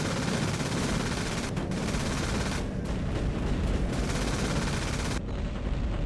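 Sustained firefight in G-Police 2: Weapons of Justice, dense continuous gunfire and rapid bursts filling the whole stretch, loud and close without pause.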